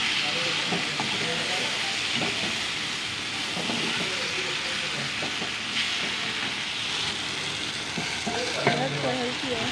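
Bitter gourd (karela) slices fry in a pan with oil and red chili, giving a steady, close sizzle and crackle that runs unbroken throughout, with occasional stirring scrapes.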